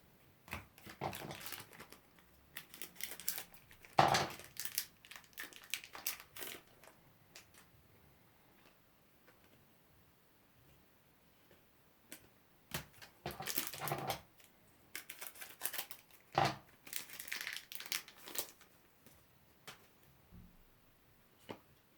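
Foil sachets of football trading cards being torn open and handled, giving bursts of crisp crinkling and rustling in two clusters separated by a quiet stretch, close and fairly soft.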